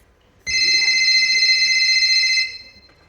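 A telephone rings in one steady electronic burst of about two seconds, loud and close, with no talking.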